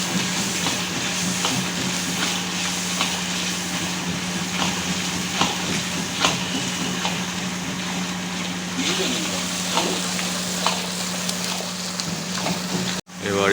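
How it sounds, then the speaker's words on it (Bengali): Spices and paste for chicken kasha sizzle steadily in hot oil, a close, continuous frying hiss with occasional stirring scrapes, while a low steady hum runs underneath. "বাদ বাকি যা যা মশলাপাতি যা যা দেওয়ার, পেস্ট দেওয়ার, সেগুলো তেলের মধ্যে দিয়ে ভাজি"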